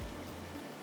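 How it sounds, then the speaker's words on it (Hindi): Water pours into a cooking pot being filled for boiling spaghetti, a brief steady splashing rush heard up close with no talking. "इसमें डालते हैं पानी"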